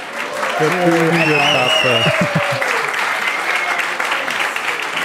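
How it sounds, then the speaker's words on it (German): Loud applause fills the room, with cheers and whoops rising above it. Someone speaks over the start of the clapping, and the applause keeps going on its own afterward. "Den Applaus. War der laut genug?"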